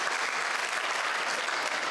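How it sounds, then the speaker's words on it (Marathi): An audience at a police officer's guidance session claps for someone, a dense, even burst of applause from a crowd, steady and fairly loud for its whole short length. "यांच्यासाठी टाळ्या वाजवा, कारण हे प्रामाणिकपणे सांगतायत."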